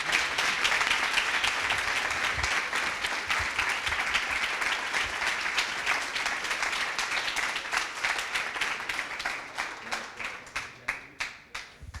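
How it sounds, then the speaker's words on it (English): Audience applause at a coding bootcamp demo day in Montreal, sustained dense clapping from a crowd that thins out toward the end into a few scattered, separate claps. "they deserve a huge round of applause"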